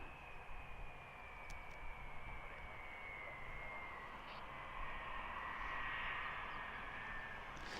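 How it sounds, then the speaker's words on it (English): Reach military transport aircraft just landed at RAF Mildenhall, its engines producing a steady broad roar with a high whine, heard from a distance in hazy conditions with no talk. "So here's our Reach aircraft that's just landed"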